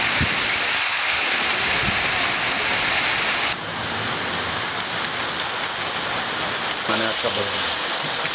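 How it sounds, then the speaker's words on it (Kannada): Heavy torrential rain pours steadily in a dense, loud hiss, with a sudden shift in level midway, over the towns and coffee and areca plantation country around Chikkamagaluru. "ಚಿಕ್ಕಮಗಳೂರು ನಗರ, ಜಯಪುರ, ಮೂಡಿಗೆರೆ, ಎನ್ಆರ್ಪುರ, ಕೊಪ್ಪ ಭಾಗದಲ್ಲಿ ಧಾರಾಕಾರ ಮಳೆಯಾಗಿದೆ."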